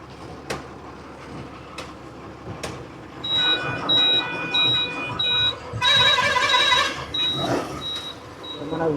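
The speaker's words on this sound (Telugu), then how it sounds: "మీటర్ బోర్డుల సౌండ్ మొదలవుతుంది ఇదే సౌండ్ బీభత్సమైన సౌండ్ మొదలవుతూ ఉంటుంది" Warning beeps from the dashboard meter board of a loaded truck in heavy traffic, repeated evenly spaced high tones in two bursts over a low rumble and engine noise.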